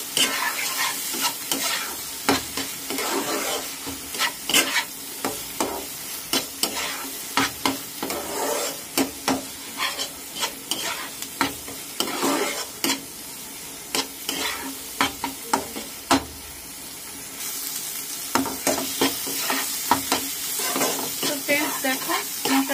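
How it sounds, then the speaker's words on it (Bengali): Spice paste of ground coriander and Kashmiri chili powder stir-fried in oil for a prawn and banana-flower ghonto, with steady sizzling and frequent scraping strokes of a spatula in a pan, close and continuous with no talk. "এবার পুরো মশলাটাকে আমি ভালো করে কষিয়ে নেব।"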